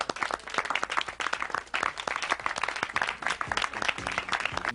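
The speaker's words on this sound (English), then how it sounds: "Let's applaud you again." A crowd applauds steadily, dense clapping from many hands filling the room without a break.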